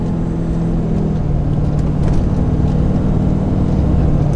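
A steady road drone of a lifted truck cruising, engine hum mixed with heavy wind and tire noise, continuous and fairly loud throughout.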